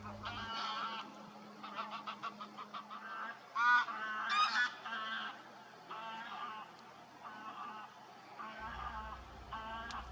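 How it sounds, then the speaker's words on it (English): Geese honk repeatedly at a moderate distance, a run of nasal calls rising into a louder flurry midway, over a low steady hum. "Several geese just arriving."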